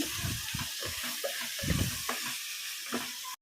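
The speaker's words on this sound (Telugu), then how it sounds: "ఇప్పుడు కూర అయితే మంచిగా ఉడుకుతుంది కదా" Mutton gongura curry with tomatoes cooking in a pan gives a steady sizzle and hiss, broken by short scraping stirs, close and continuous.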